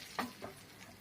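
Brief, soft scrape of red chili powder being stirred into a cooking pan while making a cluster bean (gavar) vegetable dish; one clearer stroke, then a fainter second, with low sizzling beneath.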